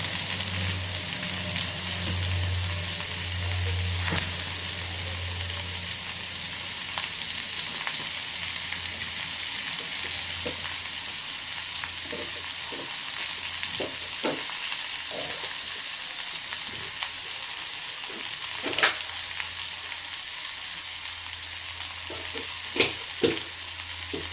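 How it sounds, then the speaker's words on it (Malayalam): Garlic, onion and green chilli frying in a pan for a home breakfast and lunch, a constant close sizzle and crackle throughout with occasional clicks and stirring noises. "ഇനി നമുക്ക് വെളുത്തുള്ളി, സവോള, പച്ചമുളക് ഇത്ര സാധനം ഇട്ട് കൊടുക്കാം"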